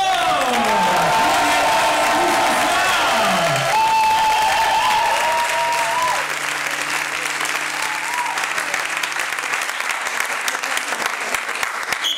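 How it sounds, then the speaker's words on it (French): Audience applause fills an improv match between LNI and Chevaliers de l'imaginaire, a dense, steady wash of clapping lasting about twelve seconds, with some brief tonal sounds early on. "on peut applaudir notre ambianceur"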